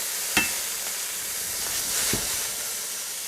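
Beef searing in a hot pan, a steady hissing sizzle close by with a couple of brief soft clicks, no talking.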